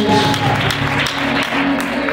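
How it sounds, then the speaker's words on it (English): Church congregation clapping along, a dense, steady wash of hands mixed with crowd noise and music, loud and close. "Clap your hands."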